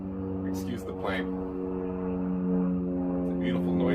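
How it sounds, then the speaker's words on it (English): A plane passes overhead outdoors on a noisy day, a steady low droning rumble throughout, with someone talking over it. "Excuse the plane."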